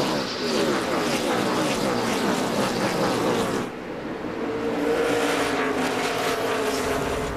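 NASCAR stock cars race past on an oval track, a loud sustained engine roar, with one car blowing by closely, a brief dip in the sound, then another wave of engines surging through.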